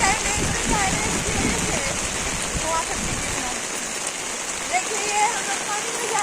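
Heavy rain pours down steadily around people walking outdoors through water, a dense, loud, continuous hiss.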